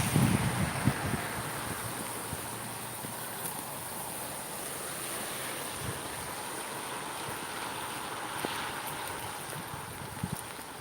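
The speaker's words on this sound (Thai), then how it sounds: "อันนี้มันลมพัดแรงนะคะ" Strong wind gusting steadily outdoors on a rainy day, a constant broadband rushing roar with microphone buffeting and faint water-like wash throughout.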